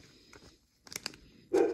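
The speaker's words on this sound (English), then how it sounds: "Dog's barking." A dog barks indoors, a few short sharp yaps heard faintly at a distance, with the loudest bark at the end and quiet rustling in between.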